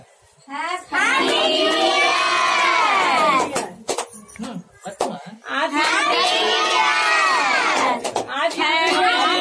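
Children shouting and cheering together at a New Year celebration with cake, two long loud bursts of excited young voices separated by a brief lull of scattered calls.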